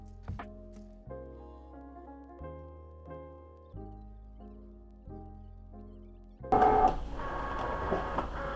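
A cutting machine works through HTV heat-transfer vinyl with a series of stepped mechanical motor tones and soft clicks. The carriage moves in regular stop-start bursts, then a louder noisy rush follows near the end.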